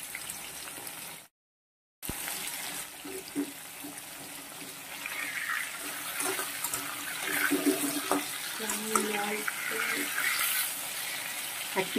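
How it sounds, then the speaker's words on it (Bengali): Shrimp, 750 grams, frying in a pan of oil, a steady broadband sizzle with occasional crackles and pops after a brief silent gap, close and moderately loud, with no talk. "ভেজে নিচ্ছি, আমি এটাও 750 গ্রাম চিংড়ি রান্না করছি।"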